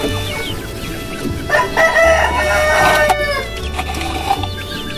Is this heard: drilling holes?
no